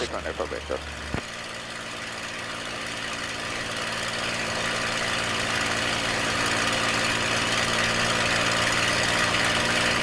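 A P-51 Mustang aircraft engine running during a magneto check, a steady loud drone with a slight rise in intensity, after a few brief bumps at the start.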